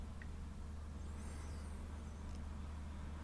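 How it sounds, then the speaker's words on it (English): Cars pass on a busy street outside an open window as a faint, steady low traffic rumble, with a brief higher hiss of a passing vehicle partway through. "that noise is the cars passing the window."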